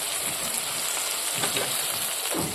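Ground cumin-pepper paste and ginger-garlic paste frying in a pan for a spicy goat offal bhuna, a dense close crackling sizzle with occasional stirring scrapes and no voices.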